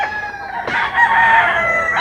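A fighting rooster crows once, loud and close, its long strained call rising sharply and then holding before cutting off.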